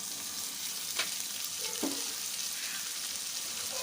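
Beans, cabbage and potato fry in a pan with a close, constant sizzle and a couple of brief stirring scrapes.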